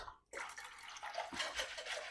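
Water is poured from a small kettle into milk being mixed for homemade yoghurt, a soft continuous splashing pour that starts abruptly after a brief pause and runs quietly to the end.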